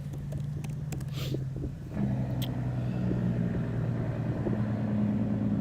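A truck engine rumbles low and steady in Sonic Frontiers, its tone shifting up slightly partway through as if revving, continuing without pause under quiet background sound.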